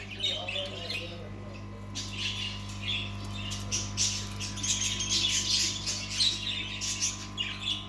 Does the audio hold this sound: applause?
no